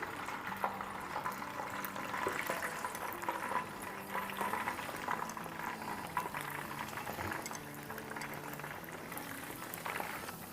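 Chicken kabab skewers deep frying in a pan of oil, a steady moderate bubbling and crackle running unbroken throughout, with no talking.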